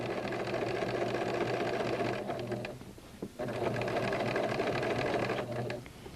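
A sewing machine stitches a fabric casing in steady, continuous whirring runs, pausing briefly near the middle before resuming, close and clear with no talking.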